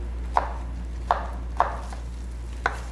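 Radish cut by hand with a knife into thin julienne strips on a board, four crisp isolated chops at an irregular, unhurried pace over a low steady hum.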